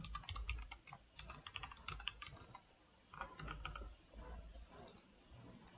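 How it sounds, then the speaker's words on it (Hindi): Computer keyboard clattering as an email ID is typed in, with quick bursts of close, crisp key clicks broken by short pauses, and no voices. "मैं ईमेल आईडी गलत लिख रहा था"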